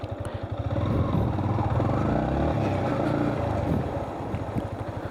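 A Yamaha MT-15 155 cc motorcycle with VVA accelerates hard in first gear, its engine a loud, close, continuous rumbling roar that swells through the middle of the clip and then eases slightly.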